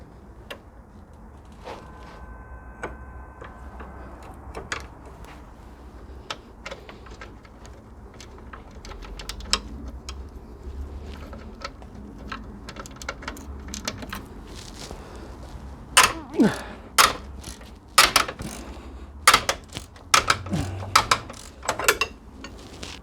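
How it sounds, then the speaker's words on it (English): Two 17mm spanners work on the rear differential bolts of a Mitsubishi 3000GT, giving close metallic clicks and ratcheting taps that grow into sharp, louder clanks toward the end. "17mm spanners"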